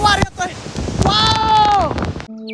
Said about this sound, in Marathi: इथं वाऱ्याचं प्रेशर एवढं जास्त आहे की मी तुम्हाला सांगू शकत आहे.